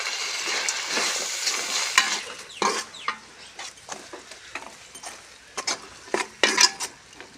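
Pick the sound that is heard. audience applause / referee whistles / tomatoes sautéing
tomatoes sautéing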